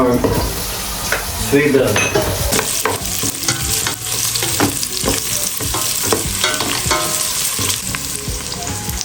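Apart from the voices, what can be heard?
ginger and onion sizzling as they are sautéed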